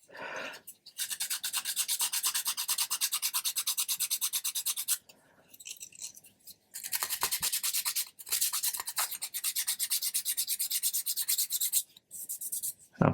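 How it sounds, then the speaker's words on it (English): Sanding small bits off a wooden part of an Amati 1/80 Endeavour model ship, fast rhythmic rasping strokes in long runs broken by short pauses, close and loud. "go over it with and sand any"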